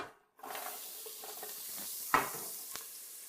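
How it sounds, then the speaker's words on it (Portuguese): Chopped carrots and celery drop into a pan of sizzling seasoned beef for boeuf bourguignon, bringing a steady close frying hiss with a couple of sharp stirring clinks. "Enquanto a carne pega tempero, adiciono cenouras e salsão agora."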